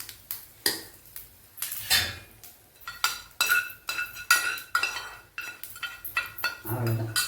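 Masala tipped into Kanchipuram idli batter and stirred, giving repeated close clinks and scrapes of a utensil against a metal vessel in an uneven rhythm.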